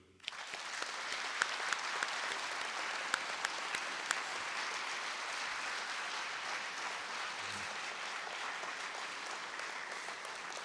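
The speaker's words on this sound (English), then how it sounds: "maybe a round of applause for everybody" An audience at an awards conference claps steadily and fairly loudly for the whole stretch, a dense sustained applause with a few sharper claps standing out, and no talk over it.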